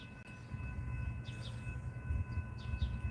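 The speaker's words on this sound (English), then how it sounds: "Here comes the train." A CSX freight train approaching on the railroad, heard as a steady low rumble of wheels and cars with faint squeals and a constant tonal hum, moderately distant and without talk.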